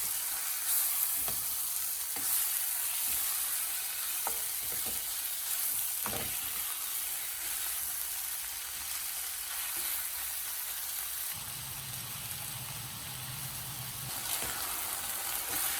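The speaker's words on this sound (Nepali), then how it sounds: "अब यो मासुलाई राम्ररी फ्राई हुनको लागि छोडिदिने" Chicken pieces fry in a pan with a steady sizzle, close up, while a utensil stirs and scrapes at intervals; a louder crackling surge comes later, with no voices.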